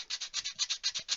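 Heavy 60 grit sandpaper rubbing down punky wood on a turned coaster, in a steady run of about ten quick back-and-forth strokes, each a bright rasping sweep, close and alone.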